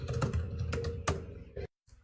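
Quick bursts of typing on a computer keyboard, several close, crisp key clicks in uneven clusters that stop abruptly near the end before one faint tap.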